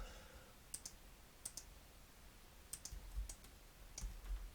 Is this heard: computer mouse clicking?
yes